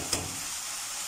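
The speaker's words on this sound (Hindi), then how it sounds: "इसको भी अच्छे से मिक्स करेंगे।" Chicken Manchurian being stirred in a pan, a brief scrape followed by a steady close sizzle, no voices.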